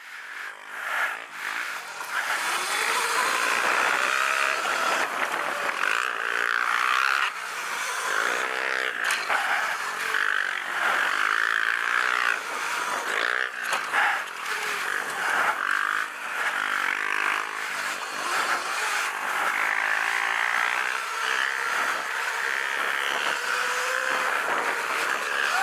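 Electro & Company EMXRON Sur Ron Light Bee electric dirt bike riding at Grass Ranch MX, a steady whining motor with rising and falling pitch, wind rush, and scattered clattering from the track, all quite near.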